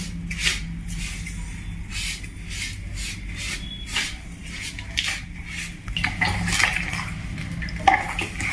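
Semolina and powdered sugar cake batter being stirred round in a bowl, a steady series of soft scraping and tapping strokes against the dish, close and fairly loud, with no talking.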